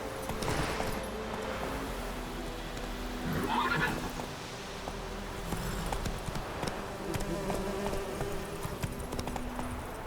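Roach, the horse in The Witcher 3 video game, lets out a neigh and whinny near the middle, with hoof clip-clops and a low ambient game bed running throughout.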